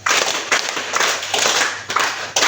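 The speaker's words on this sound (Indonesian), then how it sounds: "Tepuk 1, tepuk 2, tepuk 3," Dense group hand clapping from a junior high school class, a near-continuous loud patter of many claps with a few stronger accents and brief gaps, no speech.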